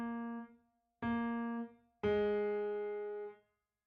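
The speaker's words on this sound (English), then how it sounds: "I think that's the sound of the felt dampening the note." Three sustained notes from a sampled Modern D grand piano on a digital piano, each cut off with a soft felt-damper release, close and clean with brief pauses between notes.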